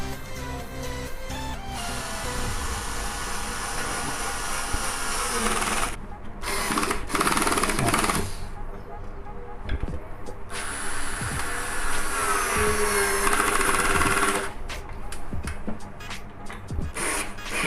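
Power drill driving screws into a wooden shelf, a loud close whirring run that stops and restarts several times, with short pauses and screw-grinding strain.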